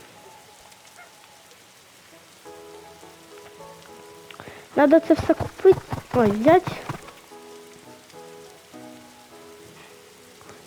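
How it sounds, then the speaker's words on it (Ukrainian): Rain pours down in a Roblox game for a few seconds in the middle, a dense burst of patter rising over quieter game sounds while a person talks before and after. "О, дощ іде."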